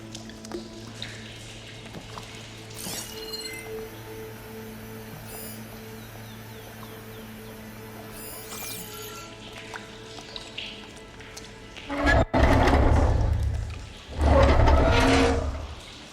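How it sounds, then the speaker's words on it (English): Water leaks from a valve system in Horizon Forbidden West, with drips early on and then two loud rushing gushes of water near the end, over a quiet game background. "It's leaking again."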